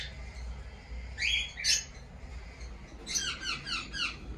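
Young chicks of Sun Conure and cockatiel breeder pairs chirp from cages in a breeding colony, giving a few short bursts of high squeaky calls over steady low background noise.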